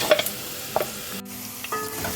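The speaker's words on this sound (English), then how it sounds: "Now it's time to add our garlic." Garlic goes into a pan of frying onions, and the oil sizzles as the food is stirred, with soft scraping and frying hiss close up and no voices.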